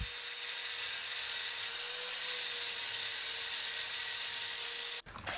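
A belt sander grinds continuously against a steel axe head, a loud, harsh, unbroken abrasive roar close to the mic that cuts off abruptly near the end.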